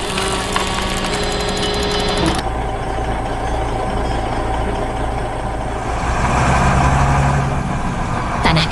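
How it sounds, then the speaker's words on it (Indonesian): In a 3D animation, an excavator clears excavated soil at an underground tunnel dig beneath a city. A steady mechanical engine drone runs throughout, and its character shifts partway through. "Sang ekskavator bekerja tanpa lelah membersihkan sisa-sisa galian itu"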